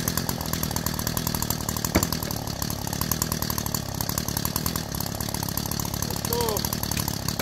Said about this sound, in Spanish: Tenemos que buscar el serrucho de cadenas.